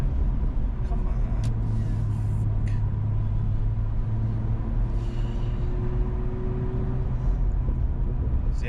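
A BMW M2 powers through a canyon turn in Los Angeles, its engine a steady, loud drone with a slowly rising pitch, heard from inside the car, without a break.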